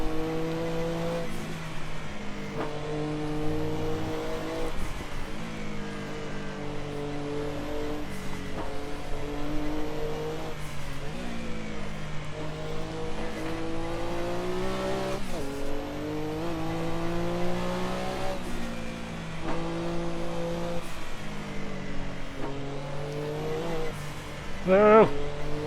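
A Porsche 962C race car in Assetto Corsa on the Nordschleife drones through repeated rising revs and gear shifts, the engine pitch climbing and dropping in cycles while someone talks over it.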